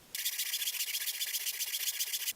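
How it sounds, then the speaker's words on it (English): Sandpaper scrubs back and forth along the radius of a fretless guitar neck in quick, even strokes, a soft rhythmic rasp lasting about two seconds with nothing else heard. "I'm just making sure that it's evenly sanding in all spots of the neck"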